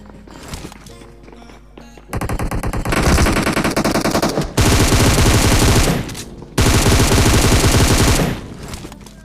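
Dense automatic gunfire during a fight in an online shooter game, sustained bursts and rapid volleys loud and close, with brief pauses between long stretches of firing and no talk.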